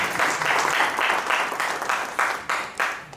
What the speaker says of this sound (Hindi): एक बार राजस्थान के आर्टिस्ट के लिए तालियां